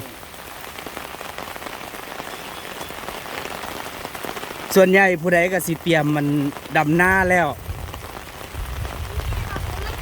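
Steady midday rain pours over rice paddies, a dense continuous hiss throughout, while someone talks close by in the middle of the clip.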